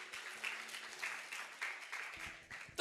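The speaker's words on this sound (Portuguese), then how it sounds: "Vamos dar uma linda salva de palmas ao Senhor Jesus." Church congregation applauding in praise during a family-themed sermon, a dense, steady wash of many hands clapping at moderate distance, with a louder burst right at the end.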